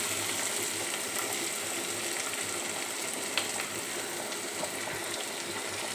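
Ridge gourd curry frying with chili powder makes a dense, even, close sizzle that holds steady throughout, broken by one or two faint clicks.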